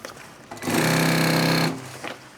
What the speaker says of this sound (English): I'm staying on the walking foot machine now because it does feed this stuff through nicely.